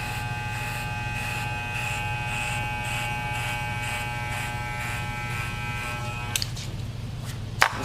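Electric hair clippers run close and continuously, giving a steady high buzz with a pulsing rhythm, then a couple of brief clicks near the end.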